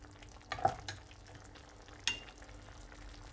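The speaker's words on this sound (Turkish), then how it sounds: "Şöyle bir tekrar karıştırıyorum, yayıyorum" A spoon scrapes and stirs through a pot of pastırma and white bean stew, two distinct scrapes over a faint, quiet simmer.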